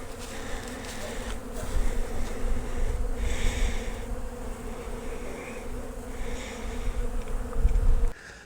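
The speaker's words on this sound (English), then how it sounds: "The bees are flying. They're hitting the pollen substitute feeders I have out." Honey bees buzz densely around pollen substitute feeders outdoors, a continuous close swarm hum with individual insects droning louder as they pass near.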